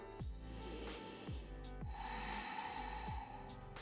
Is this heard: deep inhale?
yes